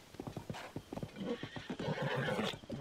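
A horse in Zelda: Tears of the Kingdom neighs loudly and whinnies while its hooves clip-clop in a steady rhythm underneath, close and clear with no talking.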